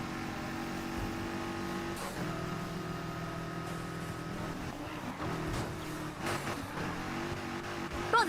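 A Porsche drives past on the road, its engine note rising and falling as it passes steadily, heard from inside another moving car with faint road rumble.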